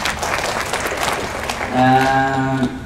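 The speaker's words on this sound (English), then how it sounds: "A round of applause for the volunteer" Round of applause for a volunteer at a stage fighting workshop at an anime convention, dense clapping from a small crowd, then a sustained musical tone rises over it near the end.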